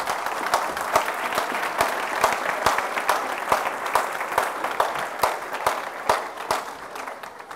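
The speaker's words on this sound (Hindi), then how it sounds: "जोरदार तालियों से खुदा के नाम पे चलो" A church congregation claps loudly at a pastor's urging, a crowd of clapping hands with some sharp individual claps cutting through in a near-regular beat.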